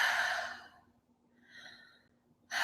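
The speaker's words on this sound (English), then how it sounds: "Close your eyes, take a deep breath in again." A single deep breath during a guided breathing meditation: a long, soft airy exhale fades to quiet, a gentle inhale rises, then another breath begins at the end, close and intimate with no talking.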